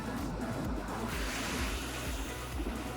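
Winter ocean waves on the Gangwon-do coast in Korea wash in with a continuous, full roar of surf mixed with wind noise, close and steady with no voices.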